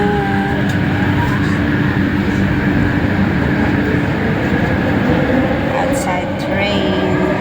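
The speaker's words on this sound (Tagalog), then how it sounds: "Nasa loob kami ng train guys." Moving passenger train heard from inside a carriage, a loud continuous rumble and rattle of wheels on track with steady roar, while a person talks over it.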